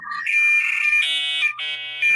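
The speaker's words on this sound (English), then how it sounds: "I think my phone's ringing." A phone rings with a bright, electronic melodic tone in repeated rising phrases, loud and close, with no talk over it.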